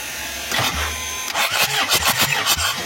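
A Kia Carnival diesel engine, fitted with a compression-test adapter on cylinder one, cranks on its starter in a workshop, giving a close, rhythmic series of loud chugging pulses after a brief pause.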